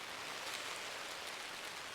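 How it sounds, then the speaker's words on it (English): Rain falls onto a makeshift tarp, a dense, steady patter of drops that is close and even for the whole stretch, with no talk. "Right now it's raining."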